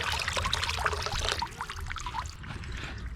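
Water drains and pours back into a bucket at a camping setup running thermoelectric generators, a continuous splashing trickle that stays close and fairly loud, with no talking.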